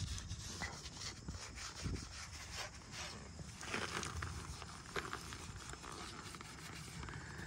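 Magic eraser scrubbing a white wall tire in a continuous, faint, rasping back-and-forth rub, close up and without talk.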